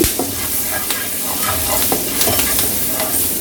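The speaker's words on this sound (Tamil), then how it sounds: "உடனே இந்த பச்சை மிளகா கொஞ்சம் போட்டு நல்லா உருகிடுச்சு" Green chilies frying in melted butter in a pan, a close, loud and continuous sizzle with scattered crackles and pops throughout, no voices.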